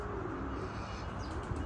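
Pigeons in a loft cooing softly amid constant broadband background noise, a low murmuring coo with faint chirps, no voices.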